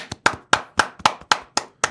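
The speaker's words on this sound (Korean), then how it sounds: "우리 다 같이 박수 한 번 보냅시다" A small group gives rhythmic, synchronized clapping for a political administrative act on a Korean talk show, about eight sharp even beats in two seconds, close and loud with no talk over it.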